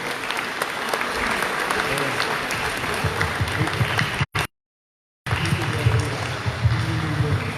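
A municipal council in Le Robert applauds a newly elected mayor, with sustained, dense clapping from a roomful of people and some voices mixed in, cut off by a brief gap of total silence before the applause resumes.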